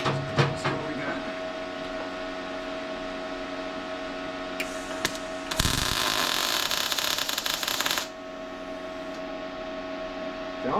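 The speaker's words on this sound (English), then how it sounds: "First, let's just do some test welds." Harbor Freight Titanium MIG 170 welder laying test welds in a garage: a steady electrical hum, then a loud, harsh crackling burst lasting a couple of seconds before it drops back to the hum, close by.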